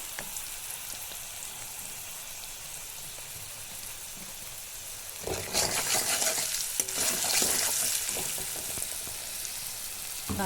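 Turmeric and Kashmiri chili hit hot oil for a fish curry, with a soft steady sizzle that surges louder and brighter about halfway through and stays crackling to the end.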